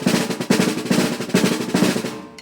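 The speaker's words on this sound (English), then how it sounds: "think about just doing very open where you can hear the individual buzzes or multiple bounces." Open buzz roll on a drum, with separate pulsing bursts of multiple bounces about every half second. It sounds close and steady, with a brief decay at the end.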